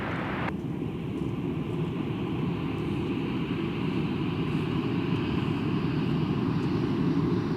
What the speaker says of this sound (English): have someone about to pass by in front of us. It's going to be Delta 2122 to LAX.